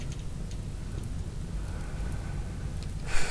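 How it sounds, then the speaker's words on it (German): Steady, soft hiss of falling rain continues throughout, fairly quiet and even, with a brief louder patch near the end. "mal gut, es regnet."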